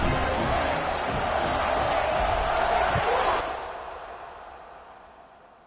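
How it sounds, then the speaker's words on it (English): Stadium crowd in a football video game roars in a loud, continuous wash of cheering, then fades off sharply toward the end. "this crowd is feeling themselves after that last drive"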